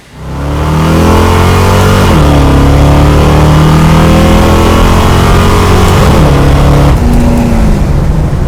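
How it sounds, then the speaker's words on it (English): A 1968 Dodge Dart GTS pro street car engine revs loudly and accelerates down an eighth-mile drag strip, pitch climbing through several gear shifts, close and continuous with no talking. "Car's running good, real good."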